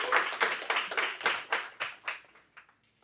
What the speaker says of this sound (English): Round of applause for Thomas.